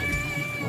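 A half-white, half-black cat meows in a brief, steady, tonal cry heard fairly close, over a noisy outdoor background.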